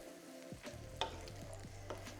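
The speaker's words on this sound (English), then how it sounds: "We'll stir the honey." Honey being stirred in a pot: soft, close scraping and sticky stirring strokes with a couple of sharper clinks, a low background hum underneath, quiet and without speech.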